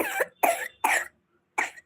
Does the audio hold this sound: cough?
yes